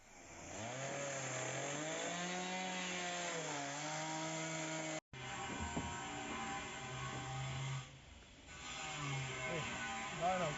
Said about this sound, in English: now they will cut them with the chainsaw